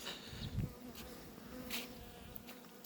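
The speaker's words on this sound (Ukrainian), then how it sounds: "Пчілки, звісно, трошки зленькі, так як погоди немає." Honey bees buzz steadily at a Ukrainian apiary in spring, a close, continuous insect drone with a few brief louder passes as individual bees fly near, and no talking.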